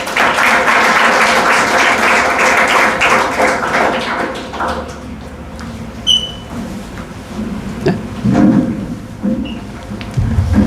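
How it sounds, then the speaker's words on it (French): A church congregation claps in a dense, steady burst of applause for several seconds, then it thins into scattered claps, taps and shuffling noises. "Nous acclamons le Seigneur"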